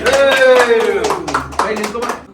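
People clap together at a birthday celebration while nearby voices keep talking; the claps come as scattered bursts, partly buried under the speech.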